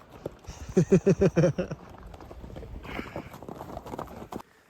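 A horse's hooves clip-clop during a ride in Kazakhstan: a quick run of about six close, evenly spaced hoofbeats, then softer scattered steps and rustling.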